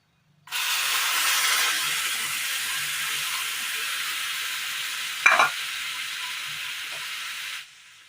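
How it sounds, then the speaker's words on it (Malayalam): Mashed dragon fruit cooks in a hot pan, giving a steady broad sizzle and steam hiss for about seven seconds, with a brief stir or scrape near the end. No one speaks. "ഒരു പാൻ എടുപ്പത്ത് വെച്ച് കൊടുത്ത് അതിലേക്ക് ഉടച്ചെടുത്ത ഡ്രാഗൺ ഫ്രൂട്ട് ഇട്ട് കൊടുക്കാം"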